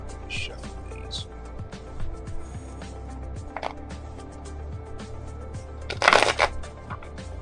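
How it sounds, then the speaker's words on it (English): Tarot cards are shuffled by hand in a quiet room, with soft riffling, flicks and taps across several seconds and a louder burst of riffling near the end. "Shuffle these."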